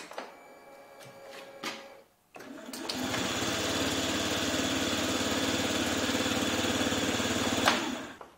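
A water-cooled Yamaha Gear scooter engine turns over quietly and settles into a steady, smooth idle that runs for several seconds, after faint clicks and a brief pause.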